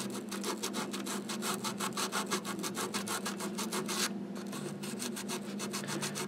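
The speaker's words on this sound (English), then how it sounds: "I'm just going to scuff it up just a little bit." Sandpaper scuffs back and forth over the light panel of a Fisher Studio Standard FM-870, with steady rhythmic rasping strokes that run close and loud, pausing briefly partway through, and no one speaking.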